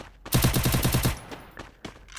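Rapid automatic gunfire from a UMP in a PUBG-style battle-royale shooter, a loud burst of about eight evenly spaced shots followed by a few scattered, fainter single shots, with no talking.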